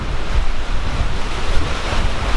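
Loud ocean surf churns and crashes continuously at Thor's Well, a roaring wash of waves with rumbling low-end surges and wind buffeting the microphone, no voices present.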